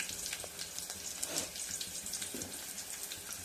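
Cumin, curry leaves and chopped onions sizzling in hot oil in a home kitchen for tomato rasam, a steady soft frying hiss with a few stirring clatters.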